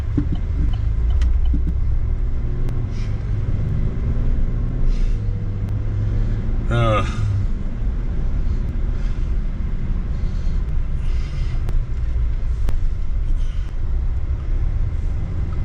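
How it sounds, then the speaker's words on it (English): Road traffic with cars passing close by, a steady low rumble and engine drone throughout and a brief squealing brake-like sound midway, with no talk over it. "here comes more traffic"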